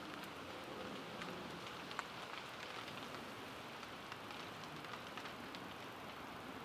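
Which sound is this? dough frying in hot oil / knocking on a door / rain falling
rain falling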